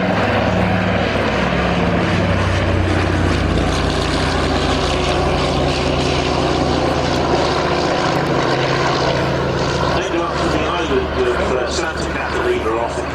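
Catalina flying boat with two Pratt & Whitney Wasp engines at an airshow at Shuttleworth, Old Warden, a loud sustained propeller drone throughout with an announcer talking over it.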